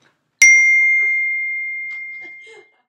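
A phone notification gives one clear, bright ding that rings out and slowly fades over a couple of seconds, with a few faint background sounds.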